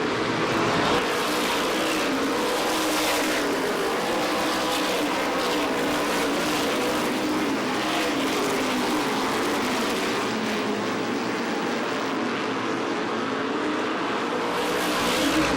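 Stock race cars competing in the 2005 MRS Star 100, a continuous roar of several engines at racing speed, loud and steady with the pitch swelling and fading as cars pass.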